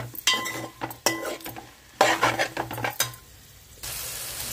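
Large okra pieces stirred with onions in a frying pan, metal utensil scraping and clinking in irregular strokes over a steady sizzle that continues alone at the end.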